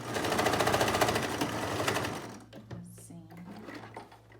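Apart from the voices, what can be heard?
sewing machine stitching fabric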